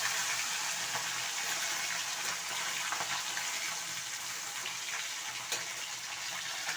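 Pieces of bhola fish sizzle in hot oil in a pan, a steady close hiss of frying throughout with small crackles and faint pops as each piece goes in.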